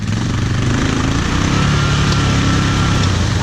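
Polaris four-wheeler stuck on a stump, its small engine revving hard and loud at close range in a steady high-pitched buzzing roar.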